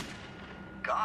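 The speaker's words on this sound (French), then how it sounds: "On y entend 2 coups de feu." On an aircraft cockpit voice recording, a single sharp gunshot cracks out loud near the end after a stretch of dull cabin noise.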